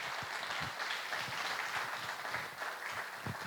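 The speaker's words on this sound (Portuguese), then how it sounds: "Dê uma linda salva de palmas para Jesus" A church congregation at a Christmas service claps together in a sustained, moderately loud round of applause, with scattered low thumps under the clapping and no speech.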